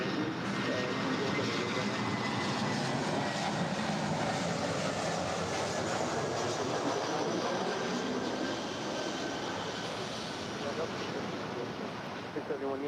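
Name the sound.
Delta Airlines Airbus A321 jet arriving at LAX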